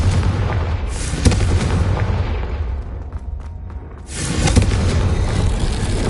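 A Confringo fire spell explodes in Hogwarts Legacy with a loud, heavy booming rumble. It dips briefly, then surges again into a thick roar.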